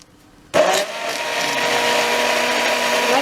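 A mixer grinder purees cooked rajma into a paste, starting abruptly after a short quiet moment and then whirring loudly and steadily at close range until the end, with no talk.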